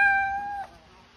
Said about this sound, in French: c'est un chat de race norvégienne